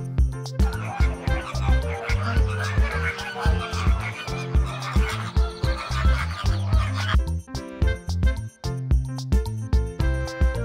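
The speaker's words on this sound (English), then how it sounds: "flamingo" A flamingo gives repeated goose-like honking calls in a noisy cluster, loud and near, layered over continuous background music.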